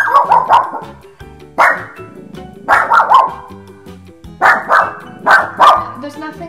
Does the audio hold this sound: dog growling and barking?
yes